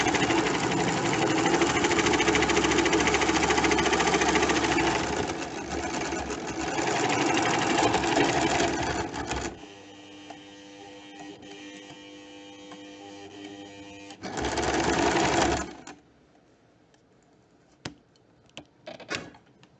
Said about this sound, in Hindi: ये दूसरे खुले वाले हिस्से पर भी हम इस तरह से सिलाई लगाएंगे।